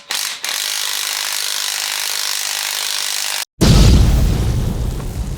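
A ratchet undoing a bolt on a 1964 Ford Fairlane, a fast continuous clicking run for several seconds, then a brief pause and a heavier clunk and scraping as the part gives, close up.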